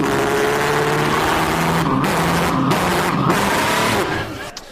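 A voice imitates a car engine pulling away, a sustained buzzing, rumbling drone broken by brief dips before it trails off and fades at the end.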